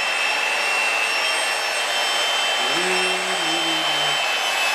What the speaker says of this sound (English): You can smell that thread cutting oil from here.